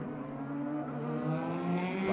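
Christian Vietoris's DTM race car pulls out onto the Spielberg circuit during 2016 qualifying, its engine note a smooth, sustained drone that climbs gradually in pitch as it accelerates away, heard fairly close with no commentary over it.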